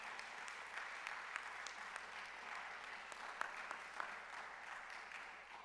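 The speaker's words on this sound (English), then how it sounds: "give a round of applause to these mentors and their families and friends" Graduation audience at a Buckley Public Service Scholar ceremony giving a round of applause for mentors, families and friends, a steady, fairly faint patter of many hands clapping with no talking.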